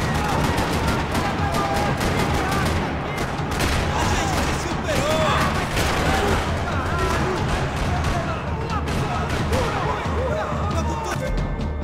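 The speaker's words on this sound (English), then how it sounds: "Another parking lot rattling with gunfire" Sustained gunfire rattles through a parking lot in the video game Max Payne, dense overlapping bursts and shots filling the whole stretch loudly, with game sounds and a voice mixed beneath.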